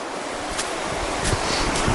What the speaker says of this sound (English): we just got to the Chattooga River.